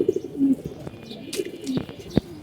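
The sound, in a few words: pigeon cooing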